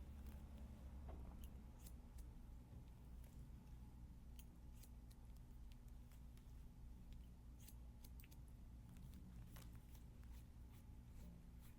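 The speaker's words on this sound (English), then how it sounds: "You guys can probably hear the scissors." Scissors snip through hair during a haircut, recorded very close in binaural sound, giving a run of quick, crisp cuts over a soft steady background hiss.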